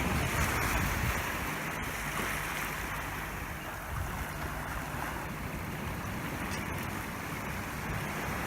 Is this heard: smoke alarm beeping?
no